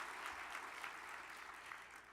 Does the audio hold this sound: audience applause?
yes